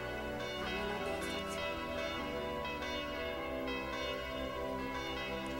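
The legendary church bell of the Tokimeki Memorial 2 video game rings loudly in sustained, overlapping metallic tones. The peals sound for the whole stretch, with no voices.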